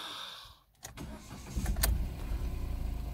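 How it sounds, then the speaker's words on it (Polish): A car engine being started during a battery check: a brief quiet moment, a few clicks and a short crank, then the engine catches and settles into a steady low idle close by. "odpalam silnik"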